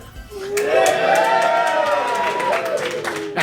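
A crowd in Portland, Oregon cheers and whoops loudly with rising shouted voices, sustained and close, as the noise swells and holds for a few seconds.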